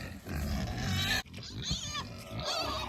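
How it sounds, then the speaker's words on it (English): Several pigs grunt and oink continuously up close while waiting to be fed, a busy overlapping chorus of snorts and squeals with a brief pause partway through. "The pigs are definitely looking for their food."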